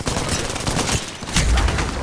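Gunfire in a shooter video game: a dense, loud burst of rapid shots crackles continuously for a couple of seconds, close and harsh, without any talk.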